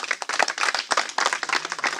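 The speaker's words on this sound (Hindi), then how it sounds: "एक बार जोरदार तालियां दुर्गापुर की जनता के लिए" Villagers at a gram panchayat gathering clap loudly together in an energetic, uneven burst of hand claps that lasts the whole moment.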